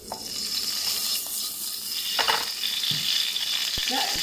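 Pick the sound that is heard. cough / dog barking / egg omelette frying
egg omelette frying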